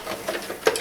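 A sewing machine back stitches over a jeans purse strap in a few brief, soft mechanical pulses, the last one a little sharper, heard up close.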